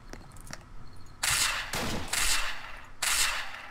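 Gunfire in the survival video game Apocalypse Rising: a few sharp shots, then dense bursts of rapid automatic fire in three loud stretches, moderately close, with no one talking.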